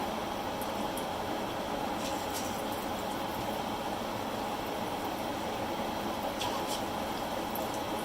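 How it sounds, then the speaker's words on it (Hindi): Chicken fenugreek pakora frying in hot oil, a continuous even hiss and crackle that stays steady throughout with a few faint clinks, no talking. "दो फ्लेम पे इसको फ्राई करते जाएंगे ताकि चिकन अंदर से अच्छी तरह से गल जाए।"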